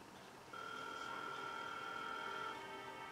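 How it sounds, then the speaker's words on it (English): A phone's ringback tone hums faintly for a couple of seconds, a steady electronic tone over quiet background. "Okay, it's ringing."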